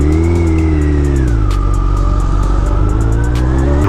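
Drift Hayabusa motorcycle engine revving hard and pulling away, a loud, steady high-revving roar whose pitch dips and then holds, close by with no talking over it.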